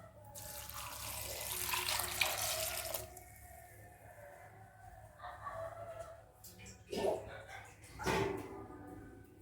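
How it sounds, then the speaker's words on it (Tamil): Water pours from a tap in a steady rush for a few seconds, then stops; later come clattering knocks, and a rooster crows faintly in the distance. "இப்போ தண்ணி ஊற்றிடலாம்."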